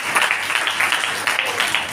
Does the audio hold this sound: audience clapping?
yes